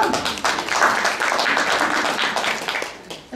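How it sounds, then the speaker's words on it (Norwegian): Audience applause at a televised-style panel debate on gender equality in working life, a dense, steady clapping from a crowd filling the room for about three seconds before tapering off at the end. "Klapping pleier det å være når det er sånn debatt på TV, så det synes jeg vi kan ha her."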